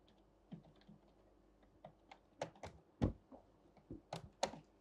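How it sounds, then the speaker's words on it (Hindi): Computer keyboard typing nearby, a scattered run of quiet key clicks building to sharper, louder strikes in quick irregular bursts, heard alone in a quiet room. "भाई ये कीबोर्ड चेंज कराओ, बहुत तंग कर रहा"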